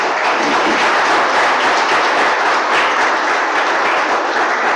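A church congregation applauds continuously, a dense, loud wash of many hands clapping together that holds steady throughout, with no voices standing out.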